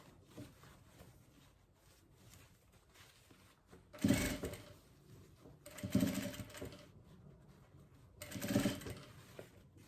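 A sewing machine stitches in three short bursts with a backstitch, faint and somewhat distant, separated by quieter pauses with low background rustle.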